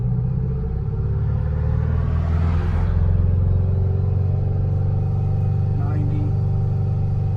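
A 1977 MCI MC8 bus with a Detroit Diesel 8V71TA engine runs without a muffler, a loud, steady, throaty diesel rumble close by that swells slightly partway through.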